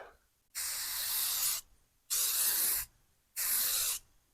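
Base coat of spray paint going onto a rifle in three separate hissing bursts of about a second each, close and steady, with brief silences between them and no talking.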